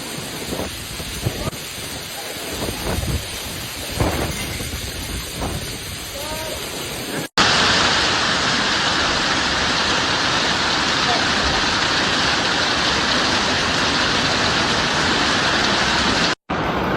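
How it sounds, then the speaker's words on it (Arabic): Heavy rain with hail in a storm in Saudi Arabia: speech over fainter rain for the first seven seconds, then a loud, steady, dense roar of pouring rain and hail, close and unbroken to the end. "الأمطار مستمرة"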